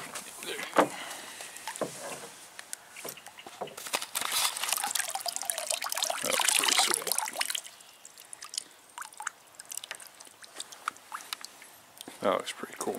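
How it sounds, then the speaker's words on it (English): A gun stock being swished back and forth in water while paint dipping, giving faint watery sloshing and splashing with a stronger surge midway, with scattered small clicks and handling noises around it. "You want to swish around a little bit in the water."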